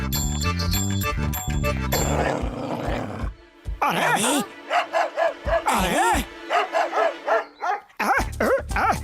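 A Motu Patlu cartoon character's voice imitates a dog with a run of loud, rhythmic bark-like yelps and growls, following a bright burst of cartoon music and mixed with other animated voices.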